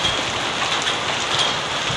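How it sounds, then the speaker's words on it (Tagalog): Heavy rain pours down in a dense, steady hiss that runs loud and unbroken throughout, with no voices. "Ah, panaya mo. Ang lakas ng ulan."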